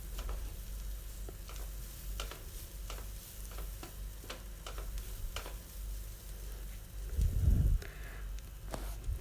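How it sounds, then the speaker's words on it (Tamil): Grated coconut sautés with capsicum in a pan, a soft, steady sizzle with light ticking stirs and one duller knock near the end, fairly quiet overall. "இப்போது நம்ம வச்சுருக்க துருவின தேங்காவை சேர்த்துக்கலாம். சேர்த்துட்டு ஒரு நிமிஷம் நல்லா வதக்குங்க."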